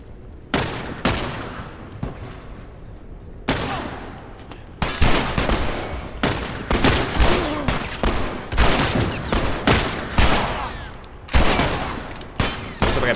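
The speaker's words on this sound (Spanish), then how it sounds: "No sé por qué pego disparo a la gente, la verdad." Repeated gunfire bursts and volleys from The Last of Us Remastered, loud and close, firing in irregular clusters of rapid shots with brief gaps between them.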